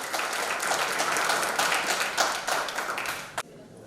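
A seminar audience at a one-day leadership program in Rampur applauding loudly, dense overlapping claps with sharper individual smacks, then cutting off abruptly near the end.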